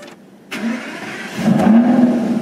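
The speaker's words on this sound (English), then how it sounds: "I'm going to lower the windows so you can hear the engine start." An Aston Martin engine cranks and fires up with a sudden burst, then settles into a steady idle before the revs climb again, heard close with the car's windows lowered.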